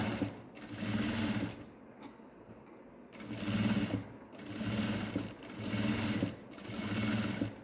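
A sewing machine stitches along the upper edge of a shirt collar in about five steady whirring bursts, separated by short pauses, close and fairly loud with no talking.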